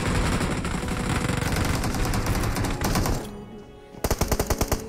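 Automatic weapon fire in the mobile game BGMI, heard as dense continuous rapid bursts, then a brief lull, then a quick string of distinct loud shots.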